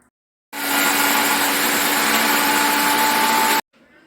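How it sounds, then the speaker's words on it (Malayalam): A mixer grinder whirs through green chilies, kanthari chilies and garlic, switching on abruptly into a loud, steady high-pitched motor whine for about three seconds, then cutting off to near silence. "എന്നിട്ട് മിക്സിയിലിട്ട് അരയ്ക്കാൻ പോവുകയാണ്"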